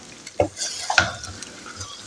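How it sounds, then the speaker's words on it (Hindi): Makhaddi halwa being stirred and roasted in a pot with desi ghee, a spoon scraping and knocking against the pot in a few distinct strokes over a faint steady sizzle, close and fairly quiet. "इसकी मिक्सिंग करनी है और मुसलसल इसको भूनते जाना है और तेज़ी में चलाते जाना है।"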